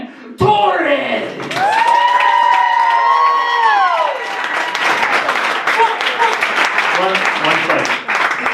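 An audience at a stand-up comedy night for comedian Aaron Torres bursts into loud, sustained applause and cheering with whoops, the clapping thinning toward the end; a voice calls out over the start.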